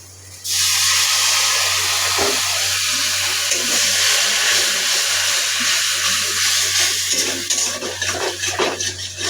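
Water poured into a hot pan of egg and cauliflower curry, setting off a loud, close rushing hiss that holds for several seconds and then breaks into uneven bubbling toward the end, with no talking.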